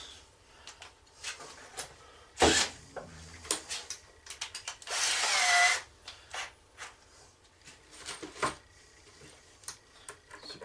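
A DeWalt cordless drill with its clutch set drives a screw into a wooden gem sieve frame in a shed, giving one short whirring burst amid scattered clicks, knocks and handling clatter.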